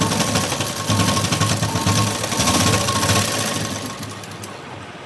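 A sewing machine runs close and loud, stitching a tassel with a rapid, steady mechanical chatter that slows and fades toward the end.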